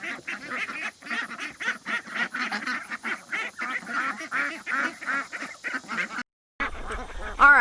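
Many ducks quack busily together, a dense, continuous chorus of overlapping calls close by, with a brief gap near the end.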